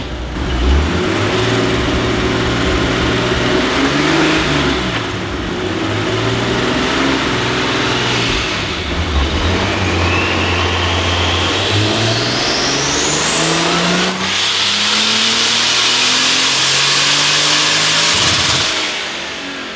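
A turbocharged BMW E34 engine on a dyno pull: loud, sustained revving that climbs steadily in pitch over many seconds, with a rising turbo whine near the top before cutting off abruptly.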